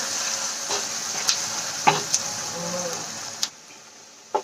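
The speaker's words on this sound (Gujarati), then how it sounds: "ડુંગળીને આપણે આછા ગુલાબી રંગની થાય ત્યાં સુધી એને સાંતળી લેવાની છે" Sliced onions sizzle steadily in a hot pan while being sautéed until light pink, with occasional clicks and scrapes of a spoon stirring them, close and continuous.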